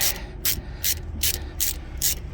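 A brake caliper slide pin is worked out on a Honda with a ratchet, six evenly spaced close clicking bursts over a low mechanical rumble, no speech.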